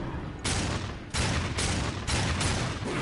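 Sustained heavy gunfire in Darksiders 2 Definitive Edition, a dense continuous barrage with four or five louder bursts breaking in at roughly half-second intervals, loud and close, with no talk over it.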